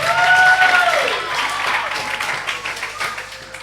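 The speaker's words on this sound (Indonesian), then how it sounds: "Tepuk tangan untuk para panitia." An audience applauds the organizing committee at the final of an Islamic school competition, a swelling wash of clapping in a hall that follows a brief tonal sound at the start and carries on steadily to the end.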